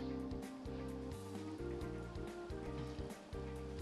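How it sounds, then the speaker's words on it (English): Light rain patters steadily in the Nekojishi visual novel, a soft continuous hiss layered under looping background music with no voices. "My thoughts dilute away as a light patter of cool rain hits my skin."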